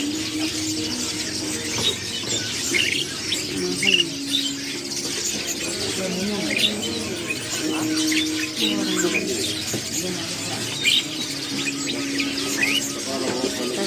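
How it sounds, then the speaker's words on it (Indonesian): Many caged birds chirp and tweet in a dense, continuous chorus at the Pramuka bird market, with overlapping calls close by and faint background market bustle throughout. "Aku lihat burung lucu banget ya. Banyak burungnya."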